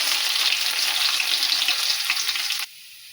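Garlic, cumin and mustard seeds fry in hot oil for mango pickle, a loud, dense sizzle that runs steadily and then cuts off sharply near the end, leaving only a faint hum.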